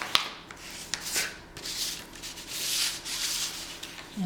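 A paper envelope fold being burnished by hand, a dry rubbing and scraping that comes in several short strokes, close and fairly soft, with small taps between passes.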